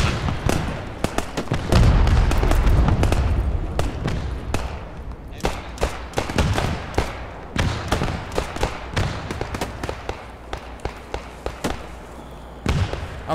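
A frag grenade blast in the World War II shooter Post Scriptum, a heavy low boom with rumbling tail amid repeated sharp gunshots near and far, continuing throughout the battle.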